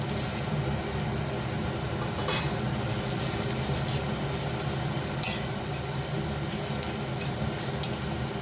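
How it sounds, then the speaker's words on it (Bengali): Bay leaves, dried chillies and five-spice seeds fry in oil in a karahi, with a steady soft sizzle and a few sharp clinks of a utensil against the pan. "ভালো করে ভেজে নেব"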